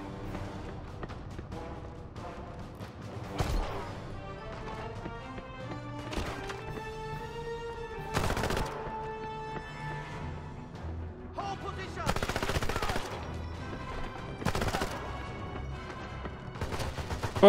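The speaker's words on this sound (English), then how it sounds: "Who was shooting me over from this side?" Shots crack out in the 007 Legends: Goldfinger shooter on Xbox 360, sharp separate bursts near 3.5, 6, 8.5, 12.5 and 15 seconds over a steady musical score, with no voices.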